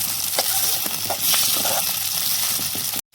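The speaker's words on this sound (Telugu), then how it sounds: "అందుకోసమే నేను నూనె ఎక్కువ వేసి బాగా వేయించుకుంటున్నాను." Green chillies sizzle and crackle steadily in plenty of hot oil for a ridge gourd chutney, a loud continuous frying hiss with occasional stirring scrapes, cut off abruptly at the end.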